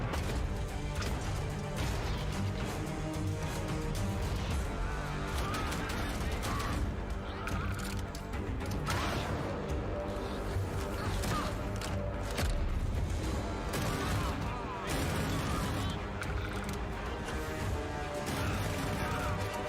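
Minigun gunfire in Starfield, a dense, continuous rattling barrage with crashing impacts that runs unbroken throughout, loud and busy with other game sounds mixed in.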